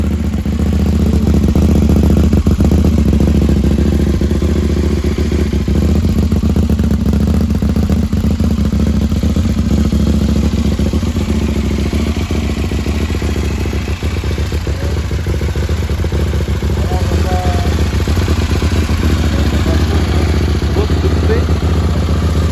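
A KTM 790 prototype replica motorcycle engine runs steadily at close range, a loud continuous low rumble with clattering mechanical texture, and people talk over it at times.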